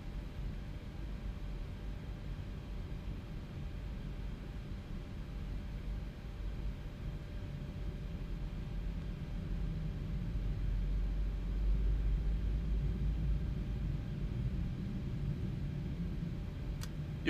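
Engine number 1 of a PMDG Boeing 737-800 starts in MSFS 2024 as a low, steady rumble that slowly builds in strength over several seconds, heard alone without speech.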